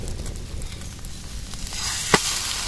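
Bread omelette frying in oil in a pan, a steady soft sizzle with light crackles and one brief sharper tick.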